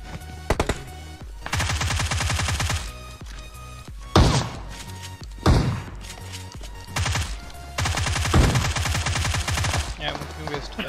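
Gunfire in PUBG Mobile, loud close bursts of rapid shots in several separated volleys with sharp single blasts between them, alongside heavy thuds and occasional speech.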